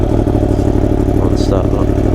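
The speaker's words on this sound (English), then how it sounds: "the cold start is pretty insane" Yamaha MT10 motorcycle fitted with a loud Akrapovic exhaust, engine running with a steady, loud, rumbling low throb close by, no pauses and no clear start surge.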